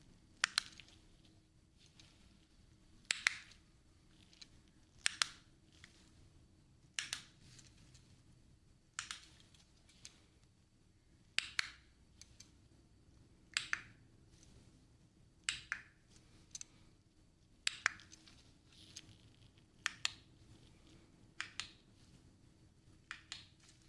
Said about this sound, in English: now we're moving on with those remote clicks again